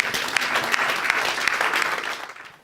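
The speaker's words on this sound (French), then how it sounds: "Quelqu'un acclame le Seigneur." A church congregation bursts into sustained applause acclaiming the Lord, a dense wash of clapping hands that holds steady and fades out at the end.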